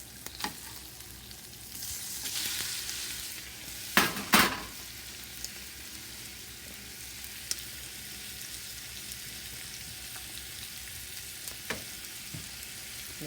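Garlic shrimp frying hard in butter and oil on high heat: a steady bright sizzle with a few sharp clanks of pan and utensil near the middle, no voices.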